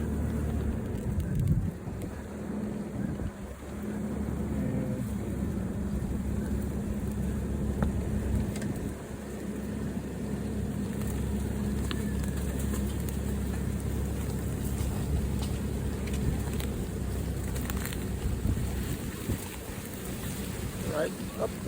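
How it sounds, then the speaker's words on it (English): A truck driving across a farm pasture where cattle graze on winter rations, its steady low engine rumble continuous throughout, with gusty wind buffeting the microphone. "I'm going to drive here with the truck a little bit just so you can see"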